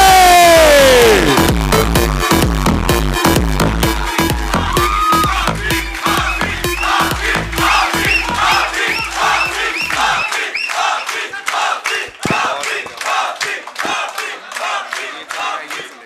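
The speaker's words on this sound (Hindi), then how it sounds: "आप सबकी तालियां, आपका शोर रुकना नहीं चाहिए।" Audience at an Urdu poetry mushaira in Faisalabad roaring and cheering loudly, a dense wall of crowd shouts and clapping that drops away after about ten seconds, leaving scattered claps and calls.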